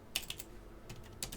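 Typing on a computer keyboard, a few quick soft key clicks in short bursts, close and faint against a quiet room.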